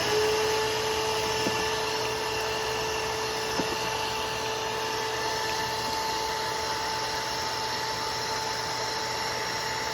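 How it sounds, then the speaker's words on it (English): A shop vac runs continuously while sucking up spilled coolant during work on a 2013 Ford Escape 1.6, a steady whirring roar with a tonal hum and a couple of faint clicks, close and unbroken, with no talking. "I've got to turn this shop vac on"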